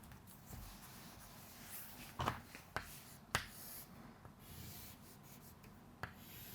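Marker or chalk strokes on a board while teaching a physics diagram, a few short scratchy taps and drags spaced apart over a steady background hiss.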